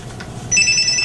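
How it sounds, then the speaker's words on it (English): A telephone rings in a talk-radio studio, starting partway through as a steady electronic trill that rises above a low background hum and continues to the end. "an actual phone call"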